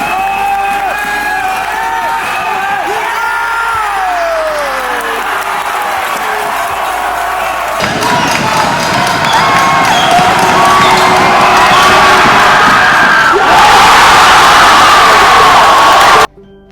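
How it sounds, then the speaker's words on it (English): A packed gym crowd at a men's basketball championship roars throughout, with loud cheering, yelling and whoops that swell and grow more intense toward the end before cutting off abruptly. "the crowd was rocking. It was loud. Everyone was yelling and screaming"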